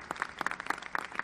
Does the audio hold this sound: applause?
yes